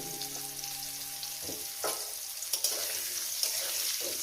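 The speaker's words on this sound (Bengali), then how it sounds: "তেল তেল আর ঘিটা আমার গরম হয়ে গেছে এর মধ্যে দিয়ে দেবো আমি আলু আর এই মধ্যে একটু চালটা দিয়ে" Small-cut potatoes and rice drop into hot oil and ghee in a pan, setting off a loud, steady sizzle punctuated by a few stirring clinks and scrapes close by.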